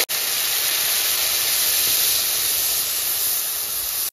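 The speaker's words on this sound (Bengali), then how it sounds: "এই বাটিতে আছে আদা, রসুন আর লঙ্কা একত্রে আমি বেটে নিয়েছি। এটা আমি তেলের উপরে দিয়ে দেবো।" Ground ginger, garlic and chilli paste sizzling in hot oil, a steady loud hiss that starts abruptly and holds evenly for a few seconds before cutting off.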